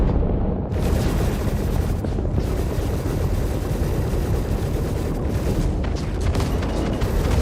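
Heavy cannon fire and a big explosion in the space game Star Citizen, a dense, continuous roar of booming blasts filling the whole span, loud and close with no clear gaps.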